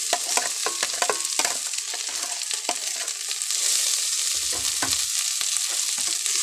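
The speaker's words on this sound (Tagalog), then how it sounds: "Halo-haloin lang po natin." Corn kernels for ginisang mais being stirred in a frying pan, light sizzling under a run of quick spatula scrapes and clicks, close up with no voices.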